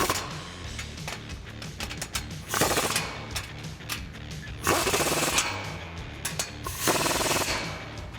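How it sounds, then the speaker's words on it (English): A 15mm socket on a power tool tightens a 3-inch exhaust clamp on a 2007-2013 Silverado or Sierra MBRP single side exit system. Loud, rapid rattling hammer bursts repeat several times, close by. "I'm just going to use a 15mm socket to tighten those down"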